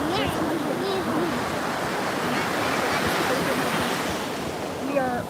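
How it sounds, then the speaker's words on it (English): Steady roar of beach surf and wind, broad and continuous, with people talking over the top of it. "We are recording live here at the beach because we are on vacation."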